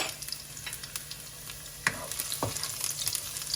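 Garlic hits hot oil in a wok over medium heat for a Thai stir-fry, sizzling close and loud with stirring clinks and scrapes breaking the steady crackle, no voices.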